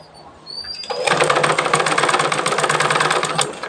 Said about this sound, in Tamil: இப்போ நம்ம பட்டியை தைக்க ஆரம்பிக்கலாம்